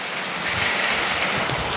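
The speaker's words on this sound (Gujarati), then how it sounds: "ભૂકા કાઢ નાખે એવો વરસાદ છે" Heavy rain falls outdoors near a farm field, a dense, steady close hiss of water with no voices.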